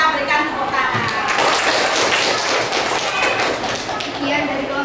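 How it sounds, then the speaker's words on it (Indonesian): Classroom applause for a student group in an Indonesian language practice lesson, a steady, fairly loud patter of many hands lasting about five seconds, with voices mixed in. "Kita berikan tepuk tangan."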